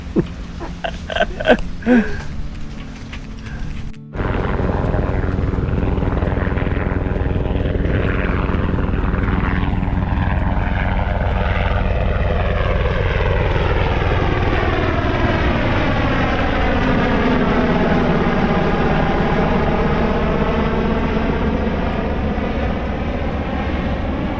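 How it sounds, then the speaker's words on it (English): A Navy helicopter passes overhead, its rotor and engine roar swelling loud and then shifting in pitch as it moves away, after a few seconds of quieter background noise. "There's Navy helicopter."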